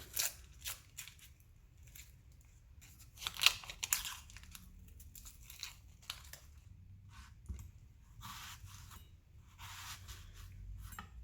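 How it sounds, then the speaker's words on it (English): An onion being cut in half and peeled on a kitchen board: a run of sharp knife taps and dry papery crinkles and tears of onion skin, fairly close and quiet, in irregular bursts with brief pauses. "Cut the onion in half. It's just easier to peel this way."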